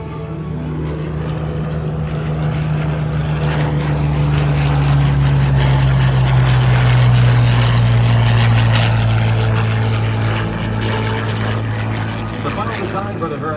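A propeller-driven RAF fighter monoplane with retractable undercarriage flies past at an air show, its loud droning engine swelling and fading with a pitch shift as it passes, while an announcer talks over it.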